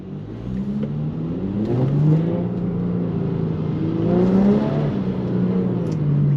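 An Audi A7 Sportback with a twin-clutch gearbox accelerates, its engine note rising in pitch, dropping abruptly at a quick shift, then climbing again, a steady moderately loud drone heard from inside.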